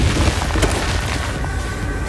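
A grenade blast in the shooter game H1Z1 gives a heavy, low boom in the first half second and then a rumbling tail that fades over about two seconds.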